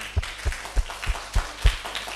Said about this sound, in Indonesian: Tepuk tangan, aplausnya.